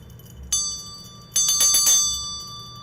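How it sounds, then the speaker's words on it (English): A small bell rings with one clear strike, then a quick cluster of several gentle strikes, each leaving a lingering bright tone in a quiet room. "I'm going to gently ring my bell one more time."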